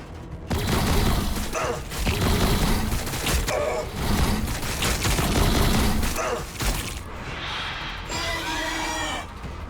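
Sustained gunfire and explosive battle noise from Warhammer 40,000: Battlesector, loud and dense for most of the stretch, with a few brief breaks and mechanical clatter near the end.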